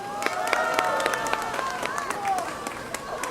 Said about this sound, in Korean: 여러분 격려의 박수 부탁드리겠습니다